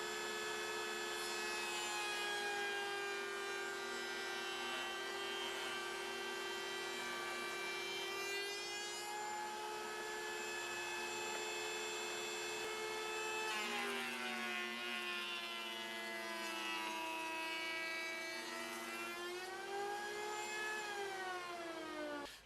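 A router bit labouring through the end grain of wood on a first pass, producing a loud continuous whine with shifting pitch and a rough rasping cut underneath, sustained from start to finish.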